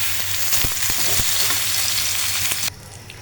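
Chicken sizzling in a hot pan with fried onion and garlic, a steady close frying hiss with a few sharp crackles and stirring knocks, cutting off abruptly near the end.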